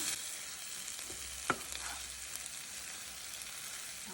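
A spiced masala filling for stuffed squid, with coriander leaves added, is stirred in a frying pan: a soft, steady sizzle with a few light scraping stirs and clicks, fairly quiet and without talk.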